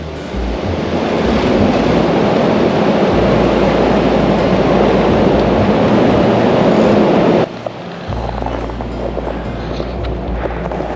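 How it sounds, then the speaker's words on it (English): Loud, blustery subzero wind at an outdoor overlook roars and buffets the microphone without a break, then drops abruptly to a lower, rumbling gusting. "It's just too windy."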